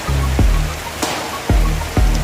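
Heavy overnight rain keeps falling on a flooded morning in Dinahican, Infanta, a dense steady wash of water with a few sharp knocks and spikes standing out over the constant downpour.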